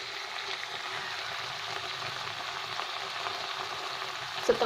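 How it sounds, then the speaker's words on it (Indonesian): Fish with basil leaves and scallions frying in a pan, a steady close hiss of sizzling oil running throughout with a brief clatter near the end. "setelah daun kemangi dan daun bawang masuk, saya masak sebentar aja"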